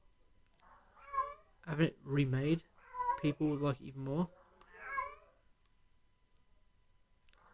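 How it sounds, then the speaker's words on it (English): A cat meows several times in a row, close and fairly clear, with drawn-out cries between quiet pauses; someone talks over part of it. "Cat's meowing."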